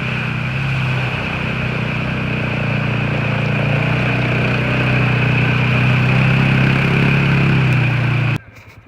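A Polaris Sportsman 570 ATV engine runs with a steady mid-pitched drone that swells slightly, then drops off sharply near the end.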